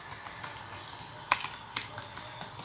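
Sparse keystrokes on a computer keyboard while entering a local server address in a browser, a few light clicks spread unevenly with one sharper tap near the middle, close and quiet over faint room noise.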